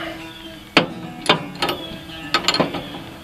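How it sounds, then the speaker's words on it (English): A brake wrench ratchets on a 9/16 front shock bolt of a 1961 Chrysler, giving about five or six short, crisp bursts of clicking close by, with brief pauses between strokes. "I'm using a brake wrench for that."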